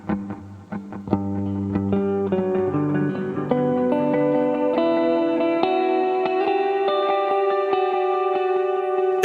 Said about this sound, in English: I want this to be like the main .8 delay